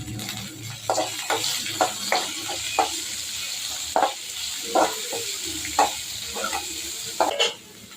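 Chopped large onions sautéing in oil in a pan for tomato rice, with a steady close sizzle and a regular series of spoon scrapes and stirs about once a second.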